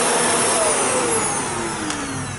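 Shark APEX DuoClean lift-away vacuum cleaner running: a loud, steady motor roar with a high whine, continuous and close throughout, no voices.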